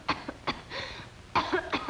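Several short, sharp coughs come in quick bursts, close and fairly loud, spaced by brief pauses with a throaty catch between them.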